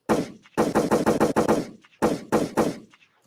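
Rapid bursts of gunfire ring out in two volleys, sharp and loud, with a brief pause between them.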